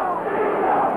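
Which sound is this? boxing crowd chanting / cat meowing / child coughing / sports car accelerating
boxing crowd chanting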